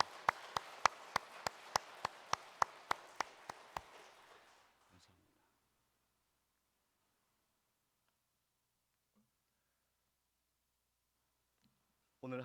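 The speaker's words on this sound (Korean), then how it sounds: "서로를 격려하고 환영하는 박수로 맞이하도록 하겠습니다" A church congregation gives a welcoming round of applause during a Sunday worship service, starting as a run of sharp, evenly spaced claps that quickly fade out into near silence, with a faint voice returning at the very end.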